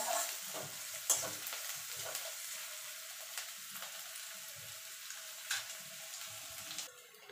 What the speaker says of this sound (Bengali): পেঁয়াজটাকে একটুখানি হালকা করে ভেজে নেবো